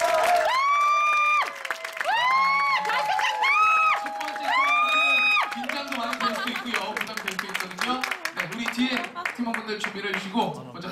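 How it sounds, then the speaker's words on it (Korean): An audience claps and cheers for a band at an office workers' band competition, the applause mixed with shouted voices and whoops while an emcee's amplified voice rings over the crowd. "큰 박수로 맞이해주시죠"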